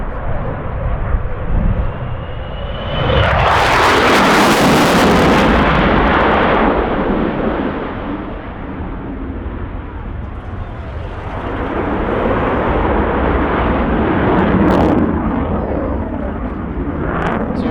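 An F/A-18 Hornet fighter jet passes low overhead on afterburners, a loud close roar that swells into a thunderous blast and then fades into a rumbling fly-by that rises again, with heavy wind noise.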